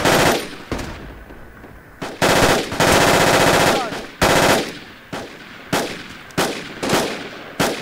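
Loud bursts of PKM machine gun fire in the military shooter game Project Reality, heard as rapid automatic volleys with short pauses between them, close and dominant.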